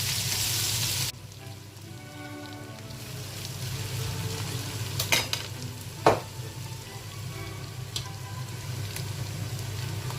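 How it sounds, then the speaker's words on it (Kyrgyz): Potato pieces fry in a pan for buckwheat pilaf, giving a steady close sizzle with a few louder crackles and stirring clinks, after a brief burst of harsher noise at the start. "Эми картошканы салып, картошканы да жакшылап кууруп алабыз."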